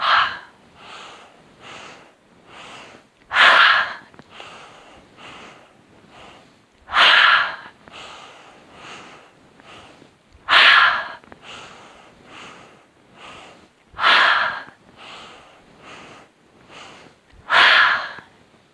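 Forceful breathing during a yoga exercise: sharp, loud breaths come roughly every three to four seconds, each burst clear and close, separated by quiet softer breathing.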